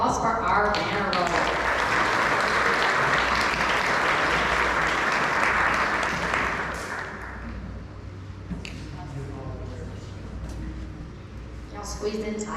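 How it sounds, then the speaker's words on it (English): A crowd at a 7th and 8th grade academic banner-roll event claps loudly and densely for several seconds, then the applause fades and gives way to quieter murmuring voices and scattered claps. "one more round of applause for our banner roll"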